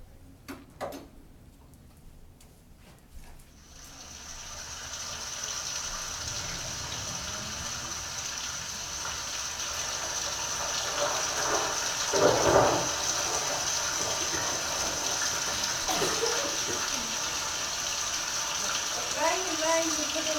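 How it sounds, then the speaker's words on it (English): Steady rushing wash of rain and flood water, loud and continuous, building after a few seconds with a surging swell near the middle. "Rain in the middle of a huge flood."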